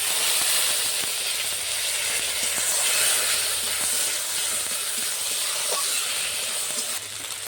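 Ginger paste sizzling in hot oil with a spice tempering of dry red chilli for dal shuktani, a steady close hiss that continues without pause and without talk.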